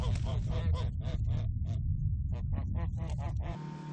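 Farm geese honk in a quick run of nasal calls, close by and loud, with a short pause midway before another burst of honking.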